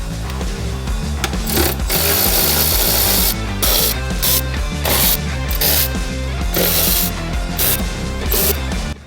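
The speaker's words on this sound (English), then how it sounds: "Go ahead and take all those bolts out." Bolts on the CVT cover of a Can-Am Defender being run out with an 8 mm socket on a power tool, loud close bursts of rapid buzzing and ratcheting separated by short pauses.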